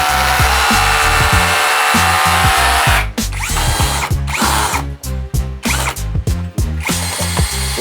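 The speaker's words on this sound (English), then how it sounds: "Then you kind of use this marker to indicate where you're going to drill. Right now we'll drill." An electric drill bores mounting holes in a wall for a solar inverter, with steady loud whirring bursts in the first three seconds, then a run of short, rapid start-stop pulses close by.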